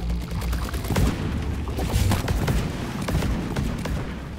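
Rapid bursts of gunfire in the video game Deep Rock Galactic, aimed at a breeder, with repeated thumps and booms and dense overlapping shots throughout.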